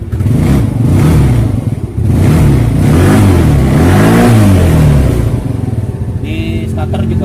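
A Yamaha Mio Sporty scooter engine runs close and loud, revving up and down in repeated rising and falling sweeps before settling near the end, when a brief higher tone appears.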